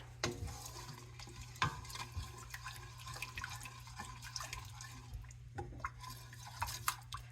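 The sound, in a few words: stirring thick cream into coconut curry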